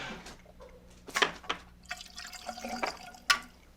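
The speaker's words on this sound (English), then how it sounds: "Pouring some coffee." Coffee being poured during a podcast-style conversation, faint splashing and dripping liquid with a few louder clinks, low in level and fairly close.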